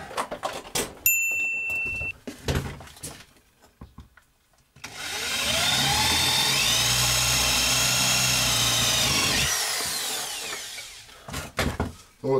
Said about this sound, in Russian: Сейчас просверлю сразу отверстие.